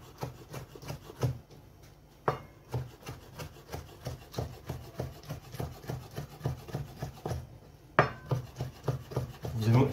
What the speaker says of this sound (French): émincer le plus finement possible